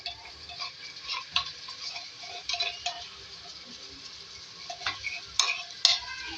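Chicken pieces with ginger garlic paste stirred in a hot pan, with soft steady sizzling and scattered clinks and scrapes of the spoon, fairly quiet and close.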